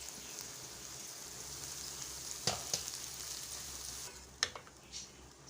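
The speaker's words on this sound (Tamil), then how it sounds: "சாப்பாடு உடையாத வரைக்கும் நீங்கள் மெதுவாக கிளறுங்க" Cooked rice stirred gently as it fries in a pan over low heat, a soft steady sizzle with a few scraping knocks of the spoon, quiet and close, no voices.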